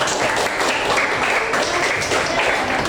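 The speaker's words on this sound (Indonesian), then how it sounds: "tepuk tangan untuk kelompok Jyotisa anak-anak" Students in a classroom applaud a presenting group, a brief, even burst of many hands clapping together at close range, steady throughout with no voices.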